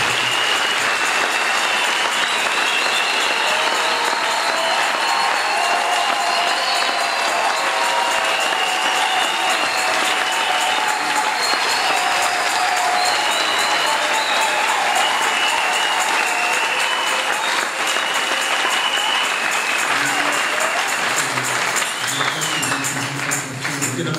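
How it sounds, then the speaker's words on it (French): A church congregation applauds and cheers loudly and continuously, a dense wash of clapping with voices mixed in that holds steady throughout before easing slightly at the end. "Commençons l'année en l'acclamant."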